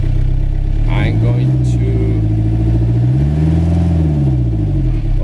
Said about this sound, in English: now engine is running and I want to charge my batteries with this